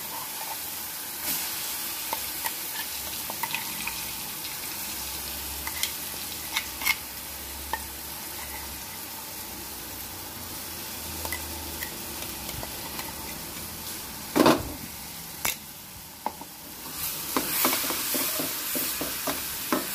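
Onion chili paste frying in a pan with turmeric while being stirred, a continuous close sizzle with scraping stir strokes and a louder clatter midway.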